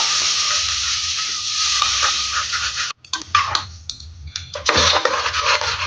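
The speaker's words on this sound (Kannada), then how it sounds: "ರುಬ್ಬಿಟ್ಕೊಂಡ ಮಸಾಲೆನ ಚೆನ್ನಾಗಿ ಫ್ರೈ ಮಾಡ್ಕೋಬೇಕು" Ground masala paste for Coorg-style mutton curry sizzles steadily in a pan, a close, continuous hiss broken by a brief pause and then scraping stirs with renewed bursts of frying.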